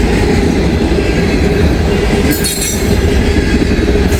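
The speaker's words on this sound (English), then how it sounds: "Got some CSX action here, finally." A CSX freight train passes close by in a loud continuous rumble of wheels and cars with a steady rattling clatter and a brief squeal midway. No one speaks.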